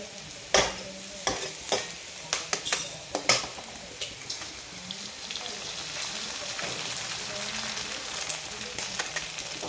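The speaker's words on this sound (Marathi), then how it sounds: "आता त्यामध्ये मी आता जरा अंडी फोडून टाकत आहे आणि छानपैकी आता आपली इथे भुर्जी तयार होणार आहे" Eggs cracked into sautéed onion sizzle and fry for egg bhurji, a steady crackling hiss with repeated sharp clinks and scrapes of a spatula against the pan throughout.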